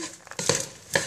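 Wooden spoon stirring chocolate-coated popcorn in a Teflon nonstick pan, giving brief scraping and rustling bursts with a soft sizzle, close and moderately loud, no talking.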